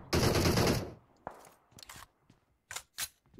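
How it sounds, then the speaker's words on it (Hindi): A K9 gun in a video game lets out a loud burst of automatic fire, then a few scattered single shots and clicks in the game soundscape. "K9 चला रहा आज के जमाने में कौन K9 चलाता है"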